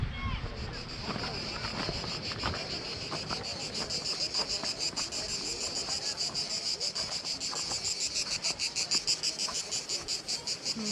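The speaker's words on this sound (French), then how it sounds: "On entend les cigales." Cicadas buzz in a loud, pulsing late-summer chorus at the Îlots de l'Estagnole, France, throbbing rhythmically throughout, with faint voices and outdoor noise underneath.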